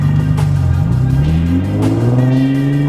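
A G35 car with a budget aftermarket exhaust revs up loudly and close, the engine note climbing steadily in pitch as the RPMs rise, with no talking.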